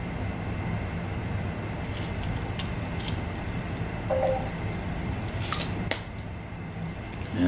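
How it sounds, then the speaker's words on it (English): A Torx driver backs screws out of an Xbox One casing during a fan modification, giving a few sharp metallic clicks and short scraping ticks over a steady background hum, close and fairly quiet, with no talking. "take its screws, swap your Torx driver to the correct size Torx driver"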